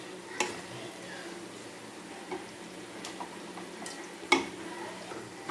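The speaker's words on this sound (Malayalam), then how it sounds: "എന്നിട്ട് അതൊന്ന് വഴറ്റി കൊടുക്കാം." Curry leaves, green chilli and asafoetida for a bilimbi pickle sauté in a pan with a low, soft sizzle, broken by a few sharp stirring knocks and clinks.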